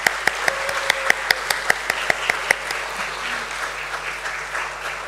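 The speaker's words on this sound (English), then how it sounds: "let's have a huge round of applause for Premier Energies Limited." An audience applauds at a stock market listing ceremony for Premier Energies Limited. A few distinct claps come first, then a sustained wash of crowd applause continues to the end.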